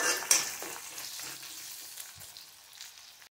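Onion frying in a pan for a lunch-box dish, a steady close sizzle with a few stirring scrapes and a sharp clatter near the start, fading slightly toward the end with no talk.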